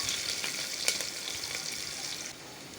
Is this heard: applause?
no